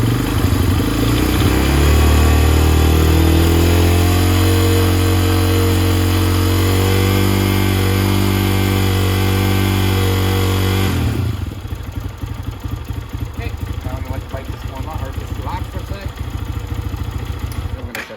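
A Lifan KPX 250cc dual sport motorcycle engine runs loud and close, holding a sustained high rev before dropping back to a rough, clattering idle.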